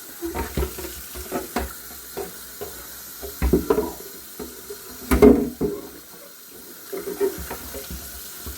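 Running tap water in a kitchen sink while dishes are rinsed, with intermittent splashes and clinks of items under the stream and a louder burst of water midway, close and moderately loud.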